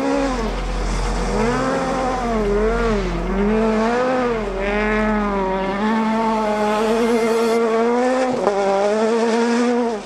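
A Toyota Yaris rally race car is driven hard on a track, its engine note loud and near as it rises and falls with repeated gear changes, tires squealing at times, and no voices.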